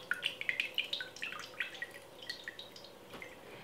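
Water poured out of a bowl of freshly made butter, heard as a soft, close trickle with irregular drips and splashes that fade toward the end.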